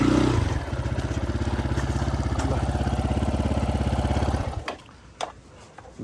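A motorcycle engine runs loud and close with a steady pulsing idle on an offroad ride, then cuts off abruptly, leaving quiet outdoor ambience with a few faint knocks.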